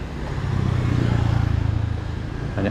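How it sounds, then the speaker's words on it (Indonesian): Motorcycles pass along a town street in Tanjung Balai Karimun, a close, steady buzzing engine drone with a pulsing rhythm and faint traffic noise around it for a couple of seconds. "banyak motor."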